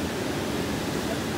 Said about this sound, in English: It's just like rapids showing.